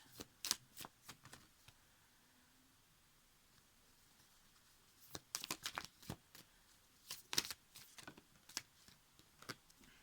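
Tarot cards are drawn and handled from a deck, giving quiet, close bursts of brisk shuffling and card flicks in clusters separated by near-silence.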